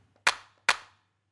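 Two identical drum-machine clap hits from an organic house beat, evenly spaced and crisp, each with a short decaying tail, heard alone with a faint low hum underneath.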